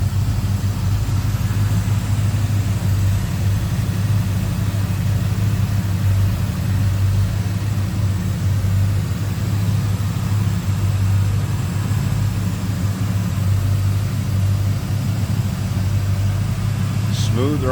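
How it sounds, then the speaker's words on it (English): A 1985 Chevrolet Monte Carlo SS engine idling, a steady, even low rumble with a constant hum, close and continuous with no revving. "Smooth running, good sounding engine."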